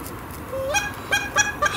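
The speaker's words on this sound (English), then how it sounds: "Goose circling." Several geese honk while circling overhead above a river during a duck hunt, with four or five loud, nasal calls in an uneven, repeated rhythm over quiet outdoor background.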